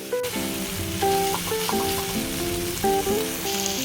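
Capsicum vegetable cooks in a pan with salt and jaggery, giving a steady, moderately loud sizzle and stirring noise under a soft melodic tone.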